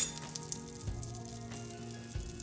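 Salmon pieces frying skin-side down in hot butter and olive oil in a pan, a steady close sizzle with soft crackles and pops throughout, no talking.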